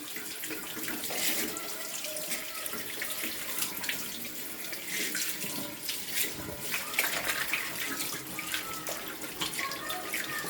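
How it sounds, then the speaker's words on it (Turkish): Water runs steadily from a sink tap as hands are rinsed during a nursing handwashing procedure, a continuous splashing hiss with no talk over it. "tekrar peçetemizi alıp musluğu açıyoruz. Ve elimizi duruluyoruz bu aşamada."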